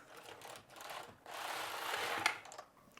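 The carriage of a Passap Duomatic 80 knitting machine sliding across to knit a row, giving a quiet mechanical whirring rattle that swells midway and ends with a brief click.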